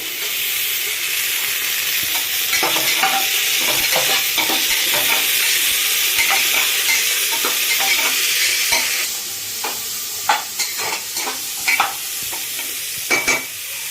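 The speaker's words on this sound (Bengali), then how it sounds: "টোটাল পাঁচ মিনিট কিন্তু এটা ভাজা হলো আলু আর এই পটল দিয়ে" Potatoes and pointed gourd frying in a pan make a loud, steady sizzle with repeated stirring clatters and scrapes. The sizzle drops to a quieter hiss partway through, with sharp utensil clicks continuing.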